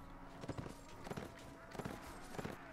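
Cavalry horses' hooves pounding in the video game Mount & Blade Warband, four heavy rhythmic beats spaced about half a second apart over a steady background din.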